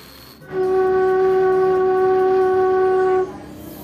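A single steady note is blown on a bamboo flute tuned to G for about three seconds, clear and loud, starting and stopping cleanly against a quiet background.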